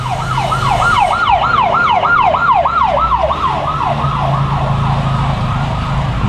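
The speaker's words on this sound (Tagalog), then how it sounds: "Ambulansya, pinawawangwang, wala naman laman" A loud ambulance siren wails close by in a fast, repeating up-and-down sweep, steady throughout with engine rumble beneath.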